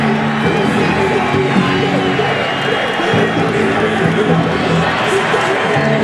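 A sold-out crowd roars at Foxborough's football stadium during an NFL game, a continuous wash of cheering and shouts with a commentator's voice speaking over it.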